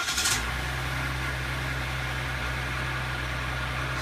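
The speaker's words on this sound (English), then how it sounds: "So we're going to do a cold start here, and we're going to see exactly how it reacts." A 2015 Ram 1500 EcoDiesel pickup cold-starts with a brief burst as it fires. It settles at once into a steady, low, even diesel idle, heard alone with no talking.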